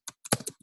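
A short burst of five or six quick, close keystrokes on a computer keyboard, crisp clicks in an uneven run.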